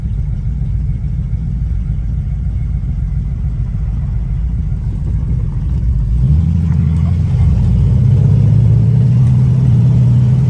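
A muscle car's engine rumbles loudly and steadily from inside the cabin, then rises in pitch as it accelerates through the gears.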